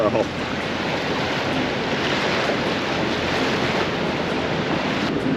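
A loud, steady rush of fast-flowing river water in Maine fills the clip, a constant roar with some wind noise, no talking.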